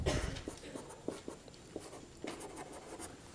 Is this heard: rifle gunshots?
no